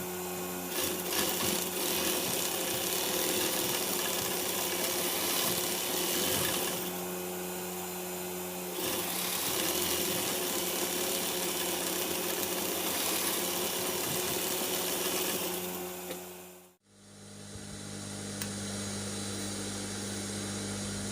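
A sewing machine stitching a waistcoat jacket with a half-inch seam, its motor whirring loud and close in long continuous runs, briefly easing off once, then stopping abruptly near the end before a quieter hum resumes.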